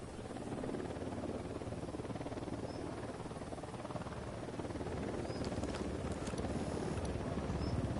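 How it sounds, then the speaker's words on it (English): Helicopter approaching in Ghost Recon Wildlands, heard as a steady, fairly quiet rushing rotor drone that holds throughout, with a few faint high chirps near the end. "Chopper incoming."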